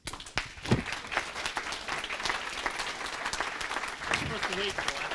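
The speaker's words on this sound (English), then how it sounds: "I think we all owe him at least a round of applause" An audience breaks into a round of applause, a steady wash of clapping at moderate level with a voice briefly heard over it.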